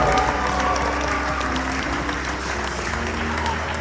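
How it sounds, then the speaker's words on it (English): Steady, dense audience applause fills a wedding reception hall, loud and continuous throughout with a faint crowd murmur underneath and no distinct voices. "a big round of applause, everybody."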